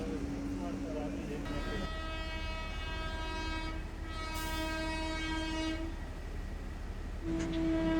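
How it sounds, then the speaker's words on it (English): The 12649 Karnataka Sampark Kranti Express runs through Tiptur railway station without stopping, a steady loud rumble of passing rail cars with sustained tonal horn notes sounding over it. "that is the 12649 Karnataka Sampark Kranti Express skipping Tiptur railway station"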